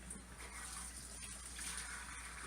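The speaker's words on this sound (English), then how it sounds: "let's go wash our hands with soap." Tap water running steadily into a sink during handwashing with soap, a quiet continuous splashing hiss with a few small clinks, no speech.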